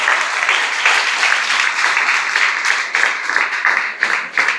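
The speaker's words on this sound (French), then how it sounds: "je vous demande des tonnerres d'applaudissements pour Lynn Trabon et son équipe" A large assembly gathering breaks into loud, sustained applause that fills the room thickly, with individual claps growing more distinct as it tapers toward the end.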